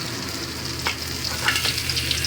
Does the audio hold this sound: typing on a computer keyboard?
no